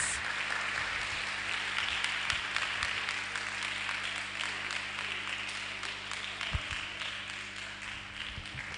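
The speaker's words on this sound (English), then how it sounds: "Please let's give him a round of applause as he comes." An audience at a roadshow event applauds a speaker coming up, a steady wash of many hands clapping at moderate distance, with a few sharper claps and faint voices underneath.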